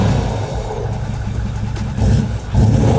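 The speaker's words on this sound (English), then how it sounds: "It is the best sounding exhaust system that I believe to date that we can put on one of these V8s." Toyota 79 Series V8 with a 4-inch exhaust, a deep, loud, close exhaust rumble that swells with short revs over a steady idle.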